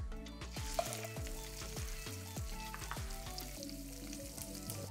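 Salmon sizzling in a couple tablespoons of oil in a non-stick pan over medium heat, a steady soft crackle under a quiet, rhythmic musical backdrop.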